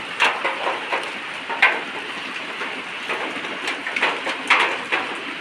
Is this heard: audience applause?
no